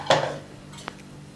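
A metallic clank as the lid of a pot of simmering manathakkali vathal kulambu is lifted, followed by a lighter tap of metal a moment later, with a quiet background.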